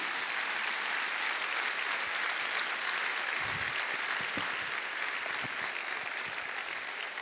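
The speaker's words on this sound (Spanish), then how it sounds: "déle ese aplauso al Señor" A church congregation applauds at a Sunday morning service, a dense, unbroken wash of many hands clapping at once, steady in loudness, with a few low thumps underneath.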